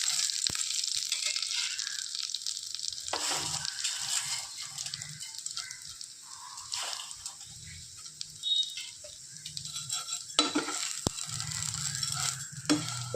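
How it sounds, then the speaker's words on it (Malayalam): Vermicelli being stirred in a small pan over a very low flame, with a steady soft scraping and faint sizzle running throughout, close and alone without talk. "ചെറുതായിട്ടൊന്ന് ചൂടാകുന്നത് വരെ ഇത് നന്നായിട്ടൊന്ന് ഇളക്കി കൊടുക്കുക"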